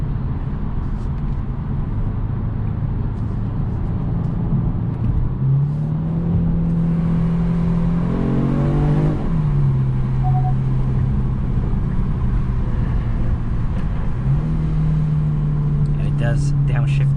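A 2022 Genesis G70 Sport Advanced in sport mode, its engine droning and rising through gear changes with a whirring climb, heard from inside the cabin as steady road noise runs underneath.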